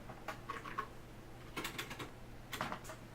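Keys are typed on an old TRS-80 computer keyboard in a few short bursts of close, faint clicks with pauses between them.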